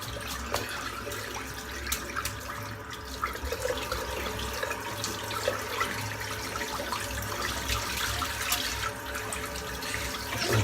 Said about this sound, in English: Rinsing all this soap out of the brush